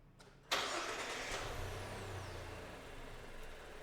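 A car engine is started: a short cranking stutter, then a sudden catch into a loud, steady running idle with a low hum that holds for the rest of the moment, with no talk.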